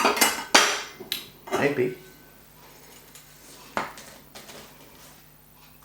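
A pie is worked out of a metal pot: several sharp metallic clanks and scrapes of a utensil against the pot close by, then a quieter stretch with one more knock, and a brief spoken word.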